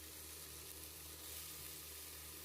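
Three medium onions, roughly chopped, fry in a pan with a faint, steady sizzle that holds evenly throughout with no talking.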